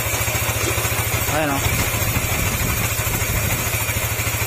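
Yamaha NMAX155 scooter engine idling with a fault, a steady low rhythmic putter carrying a faint ticking clatter, close and continuous beneath a voice.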